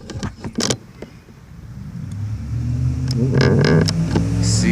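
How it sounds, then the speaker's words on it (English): A truck rumbles past outdoors by a freshly mowed yard, its engine noise swelling steadily over several seconds and growing loudest toward the end after a few sharp knocks at the start. "you hear that truck?"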